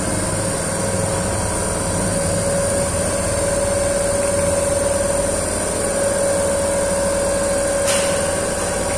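Machine held at a constant 1400 RPM with its voltage regulator raised, producing a steady even hum and whine throughout, close and unbroken, with no talking.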